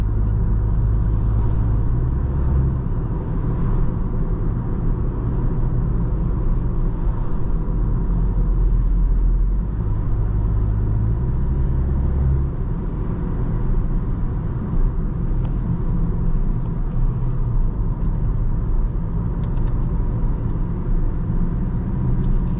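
Engine and road noise inside a 2023 VW Jetta GLI driving on the Autobahn: a loud, continuous low rumble with shifting engine drone that holds steady throughout, with no talking.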